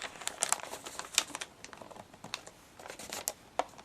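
Paper folded by hand into a homemade gift bag gives quiet, close crinkles and crisp little snaps, with soft taps of creasing scattered irregularly throughout.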